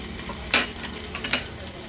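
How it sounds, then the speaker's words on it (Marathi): Mustard seeds, green chillies and curry leaves sizzle in hot oil with crushed ginger and garlic for a Maharashtrian tempering, a steady crackle broken by two sharper stirring scrapes, close and alone without any voice. "व्यवस्थित फोडणी आपल्याला मिक्स करून घ्यायची आहे"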